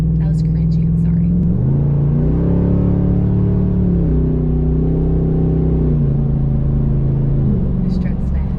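A truck engine revs hard through stepped gear changes, a loud close rumbling drone rising and dropping in pitch, heard from inside the cab with brief talk at the start and end.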